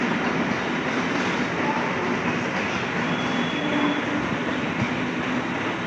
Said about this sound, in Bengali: ট্রেন ঢুকছে টালিগঞ্জ স্টেশন, লেক গার্ডেন্স থেকে টালিগঞ্জে ট্রেন ঢুকছে।